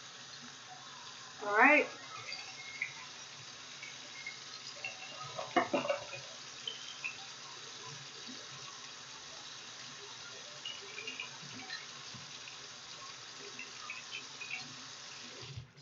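Tap water runs steadily in a room sink while soap is rinsed off hands, a soft continuous wash with a couple of brief louder splashes near the start; a voice speaks once briefly.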